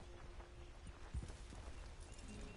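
A horse's hooves in Red Dead Redemption 2 clip-clop in a steady walking rhythm, faint and continuous under low game ambience.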